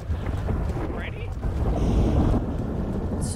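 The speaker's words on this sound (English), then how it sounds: "It's so loud, the thunder." Loud thunder rumble in a role-play video game, a heavy low roll swelling and holding under gusty wind-like noise, with no clear talk.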